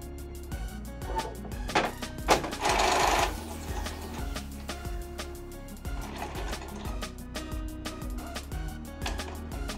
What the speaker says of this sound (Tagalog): nag-head cleaning na yung ating printer